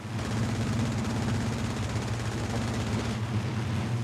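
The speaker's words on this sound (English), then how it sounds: "First, we have the Mark II-A with 8 rifle-caliber Browning machine guns." Eight rifle-caliber Browning machine guns on a Hurricane Mk II-A fighter in the IL-2 combat flight game, firing in a loud, continuous rapid burst over steady engine drone for the whole stretch, with no talk.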